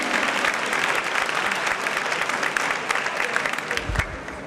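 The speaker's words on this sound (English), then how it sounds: "let's give Reverend Jackson another applause" A crowd claps steadily in a sustained round of applause that holds for several seconds before beginning to thin out.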